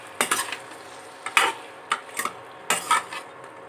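A spoon stirs a chilli paneer mixture, fried paneer tossed into sauce, in a pan, with several distinct scraping clanks in uneven strokes, close and fairly loud over a faint sizzle.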